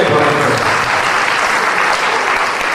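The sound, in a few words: audience clapping in welcome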